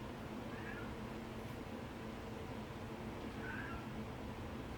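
Pet cat meowing indoors, two faint drawn-out meows a few seconds apart over a steady background hum.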